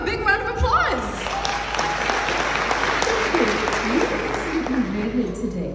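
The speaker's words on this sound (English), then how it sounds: "Give her a big round of applause." An audience breaks into steady applause right after a voice speaks, the clapping continuing warmly for several seconds.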